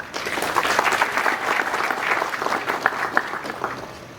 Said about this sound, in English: with a huge round of applause, let us welcome Shri K.Z. Narendran